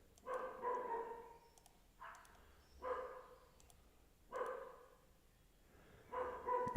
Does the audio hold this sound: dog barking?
yes